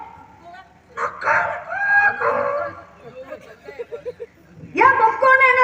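A voice imitates a rooster's crow during a Tamil stage comedy routine, with harmonic crowing bursts near the start and again at the end, among loud speech from the performers.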